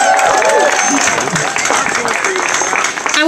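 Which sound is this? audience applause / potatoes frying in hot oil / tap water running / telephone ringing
audience applause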